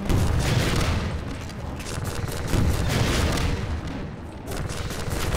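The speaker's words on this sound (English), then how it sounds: "Die! Eat rocket!" Rocket launcher fire and explosions in Half-Life 2, a continuous loud, dense roar of blasts and booming impacts with no break, close and overwhelming.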